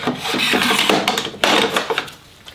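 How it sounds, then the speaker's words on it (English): Aluminium fence extrusion sliding into the track of a Festool CSC SYS 50 table saw, giving a close, continuous scraping and rubbing rasp with a few knocks, heard alone. "now I'm going to go ahead and slide it back into the track before I tighten it up."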